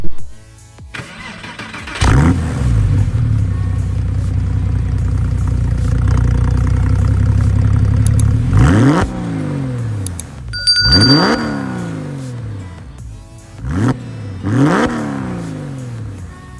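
A 2002 Porsche 911 Carrera's 3.6-liter flat-six cranks and fires, holds a loud, steady run, then gives several sharp revs that rise and fall, heard up close with no talking.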